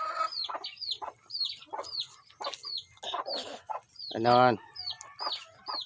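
A fighting rooster clucks repeatedly in short bursts while being fed, with one louder drawn-out crow-like call near the end and someone speaking briefly nearby.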